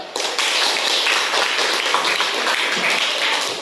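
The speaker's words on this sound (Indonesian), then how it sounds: "Tepuk tangan dulu" Classroom applause from students clapping together, a brief dense burst of many hands that starts abruptly and holds steady, loud and close, with no talking.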